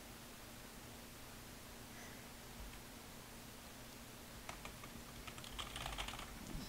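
Computer keyboard keys clatter faintly in a quick cluster of taps toward the end, over a steady background hiss and low hum.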